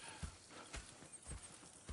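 Horse hooves clip-clop at a steady walking pace in the video game Red Dead Redemption 2, four distinct thuds close by and fairly quiet, with no speech over them.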